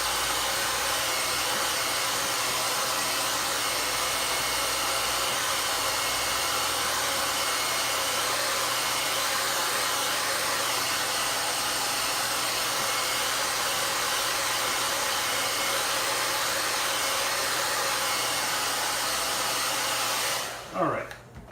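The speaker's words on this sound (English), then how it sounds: "I think I'm going to use the hair dryer for about 15 seconds." A hair dryer blows steadily on wet acrylic paint, a loud, constant whooshing roar held close for about twenty seconds, then it clicks off and quickly dies away.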